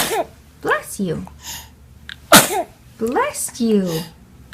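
A small child sneezes once, sharp and close, in the middle of nearby adult chatter.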